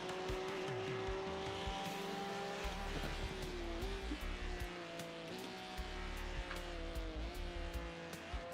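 Race car engines in the iRacing video game during the Bathurst 12-hour race drone steadily at high revs, pitch dipping and climbing through gear shifts, with tire squeal and faint ticking underneath a continuous loud mechanical hum.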